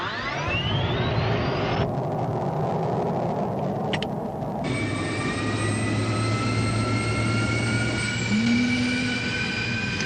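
F-16C jet engine spooling up on its jet fuel starter, a loud steady turbine whine with rising tonal streaks over a constant roar, heard alone with no talk.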